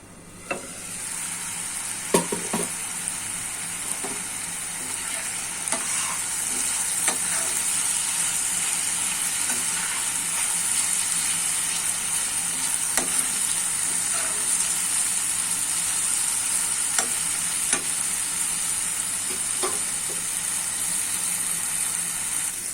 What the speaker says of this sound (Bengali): ঢেকে আমি 5 মিনিট জাল করে নিব।